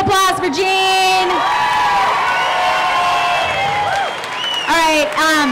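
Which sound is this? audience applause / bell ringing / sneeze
audience applause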